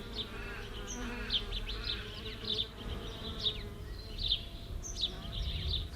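A late spring swarm of honeybees arriving outdoors, a dense steady buzzing hum with individual bees droning past close by and faint bird chirps behind.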